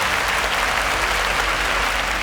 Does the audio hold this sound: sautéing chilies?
no